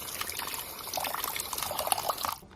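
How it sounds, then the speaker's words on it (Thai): Glutinous rice is rinsed in water for a black bean sweet coconut milk dish, giving a steady close splashing and trickling that stops abruptly at the end. "อันนี้เราก็ล้างข้าวเหนียวไปจนน้ำใสแล้ว"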